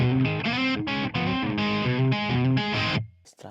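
An overdriven electric guitar played through a Harley Benton DNAFx GiT Pro multi-effects unit rings out in a short run of distorted chords and notes with a boxy tone, then stops abruptly.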